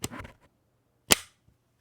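A Kronos KR3003 bayonet attaches to a PSA rifle with a sharp metallic click, preceded by a short rattle of handling, two distinct close snaps in near silence.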